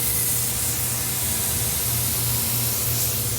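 An automotive spray gun lays down a wet first coat of base coat paint, a loud, steady hiss of atomized spray running continuously at close range without pause.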